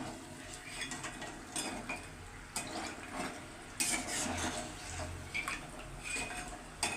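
Crispy sesame chegodi snacks clink and rattle against each other and a metal pan as they are mixed by hand, giving a steady stream of light, close, dry clattering with a few sharper clinks and no voices.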